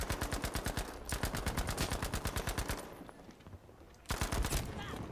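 Rapid automatic gunfire in the video game Battlefield V, two long bursts of dense, evenly spaced shots separated by a brief lull, then another loud burst starting near the end.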